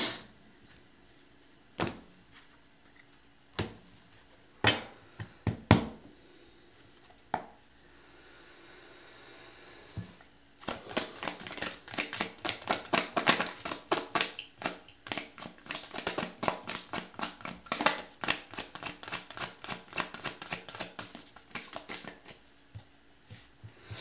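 Tarot cards handled and shuffled, starting with a few sparse taps and knocks before a long dense stretch of rapid crisp card shuffling, close and fairly quiet, with no talking.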